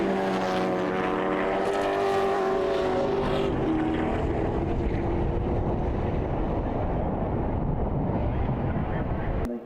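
Race cars including a Ford Falcon and a Porsche roar around CARCO.com.au Raceway, one engine loud and close with a rising whine before the noise dissolves into broad, rumbling circuit din and fades at the end.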